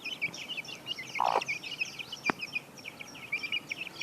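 Chickens and small chicks clucking and peeping as they peck at feed in a pigeon setup, a steady chorus of high chirps with a couple of louder squawks and a sharp tap partway through.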